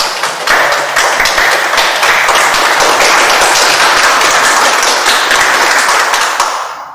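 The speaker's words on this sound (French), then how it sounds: "Merci pour ces applaudissements" An audience at a French-language talk bursts into applause, a close, loud, continuous patter of many hands that holds steady for several seconds before fading out at the end.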